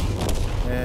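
A tank cannon shot in World of Tanks, a dense, loud boom filling the whole short moment with broad rumble, with a voice talking over it.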